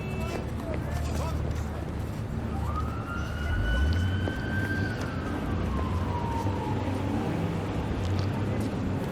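A flying ambulance in Cyberpunk 2077 sounds its siren with a clear rising and falling wail, moderately loud over steady game background noise and engine rumble.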